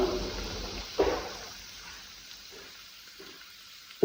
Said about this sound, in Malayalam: ഇതിലേക്ക് നമ്മൾ കറിവേപ്പില ഇട്ട് കൊടുക്കാം.